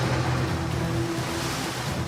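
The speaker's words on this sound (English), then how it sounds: "Water's coming, here it comes." Water rushing into a gold mine wash plant makes a steady, loud, broadband roar, like heavy surf, continuing without a break for about two seconds.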